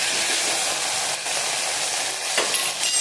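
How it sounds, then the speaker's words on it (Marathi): Cluster beans (guar) fry in a pan with a steady, fairly loud sizzling hiss, a couple of faint stirring scrapes near the end. "हलवून घेऊ."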